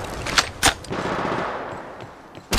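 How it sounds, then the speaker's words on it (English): Gunfire in the mobile shooter Apex Legends Mobile: a few sharp, loud shots in quick succession over a fizzing background, with another burst at the very end. "The enemies are shooting at me."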